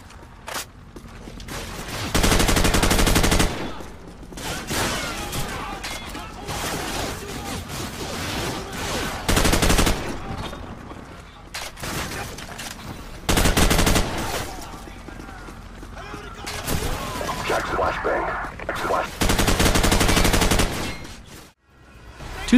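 An MG42 machine gun firing in Call of Duty 4 (2007), loud, long automatic bursts that recur several times, with quieter battlefield sounds and scattered shots in between.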